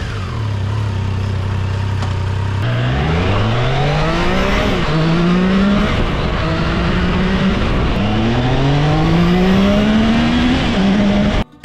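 A Triumph Tiger Sport 660 triple-engine motorcycle accelerates hard through several gears, its loud engine note rising in pitch, dropping briefly at each shift and climbing again, close and continuous with no talk.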